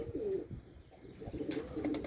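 Pigeons coo softly nearby in low, rolling bursts, one call at the start and another toward the end, over a quiet background with no talk.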